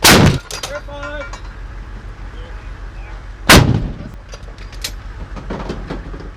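A tank gun fires during a combat training mission, two loud close booms a few seconds apart, each with a rumbling tail, and faint radio-style voices in between.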